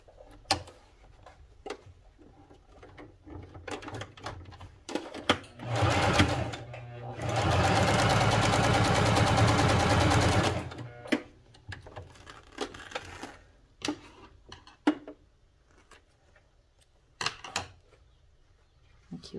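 Domestic sewing machine stitching a presser-foot-width seam on crazy quilt fabric, a rapid whirring burst of about three seconds between scattered clicks and handling noises, close and moderately loud.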